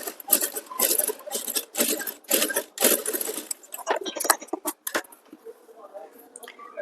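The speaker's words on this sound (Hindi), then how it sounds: "तो गाइस मजबूती के लिए यहाँ पर हम एक और सिलाई लगाएंगे।" Sewing machine stitching a princess cut blouse, running in several quick close bursts of rapid needle clatter separated by short pauses, then lighter clicks and handling noises.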